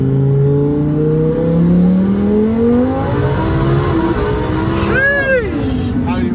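A 1500HP turbocharged Lamborghini Huracan accelerates hard, its engine note climbing steadily in pitch through the gears as a loud, continuous drone heard from inside the car, with brief rising whine near the end.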